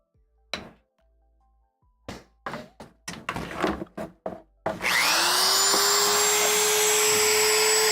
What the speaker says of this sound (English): I just generally fire up the Dremel for this.